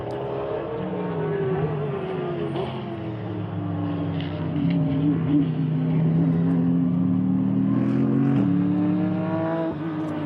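A GT race car accelerates hard back onto the circuit after a spin in a GT endurance race at Slovakia Ring. The engine note climbs steadily and stays loud and near throughout, with faint commentary underneath.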